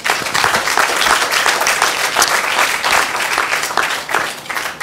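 Sustained audience applause at a French food democracy conference, a full room clapping steadily and fairly loud with no one talking over it.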